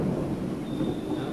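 Heavy rain roars steadily and fairly loud, with a deep rumble like distant thunder underneath, filling the whole short stretch with no voices.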